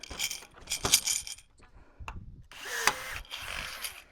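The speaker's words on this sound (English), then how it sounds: "all I need you to do is drill it back out" Power drill boring out a rivet on a vinyl gate, in short whining bursts separated by pauses and small clinks, fairly close and with no voices.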